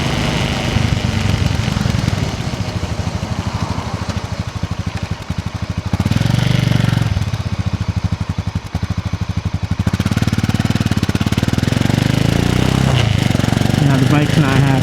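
A cold motorcycle engine idles roughly at night, a loud, close, uneven chugging that dips and surges in revs, rising noticeably around the middle and again toward the end.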